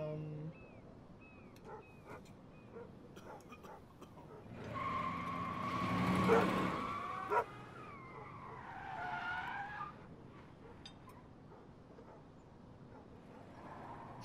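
Tyres skid in the video game Life Is Strange, a loud broad screech over about five seconds that swells and fades, with game music and faint voices around it.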